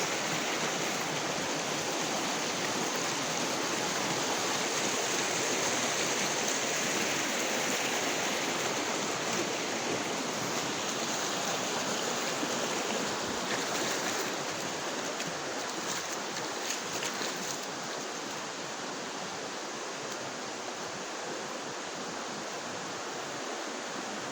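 Steady rushing water of a river flowing over rocks at a crossing point, a constant broadband wash with no voices.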